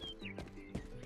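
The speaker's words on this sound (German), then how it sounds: "Pferderennen." Hooves clip-clop through a horse race in the medieval video game Rustler, with a few quick hoof hits and a whinny-like tone over a busy game soundtrack.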